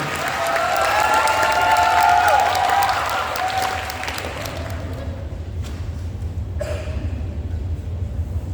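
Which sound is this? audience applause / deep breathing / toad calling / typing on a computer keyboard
audience applause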